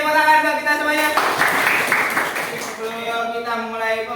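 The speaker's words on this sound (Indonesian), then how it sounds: "Tepuk tangan buat kita semuanya." A classroom of students clapping together in a brief burst that rises in the middle between stretches of voices and tonal sound, moderately loud and close.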